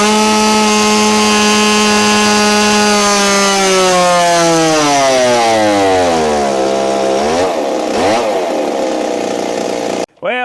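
A Stihl 026/MS260 chainsaw with a carburetor choke runs loud and close at high revs, its engine pitch sliding steadily downward as it slows, then briefly dropping out before a short burst near the end.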